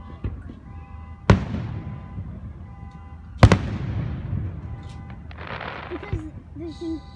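Fourth of July fireworks: two sharp, loud booms a couple of seconds apart, each trailing off in a crackling rumble, with people chatting and a car alarm faintly audible in the background.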